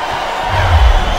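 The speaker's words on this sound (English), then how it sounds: "I love hearing the crowd come alive" Arena crowd in the WWE SmackDown vs Raw 2008 video game on PS2, a steady roar of cheering that swells louder midway through the short stretch, with no talk over it.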